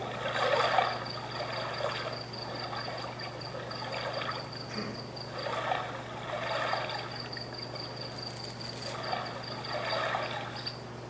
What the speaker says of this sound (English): this is the sound of a forest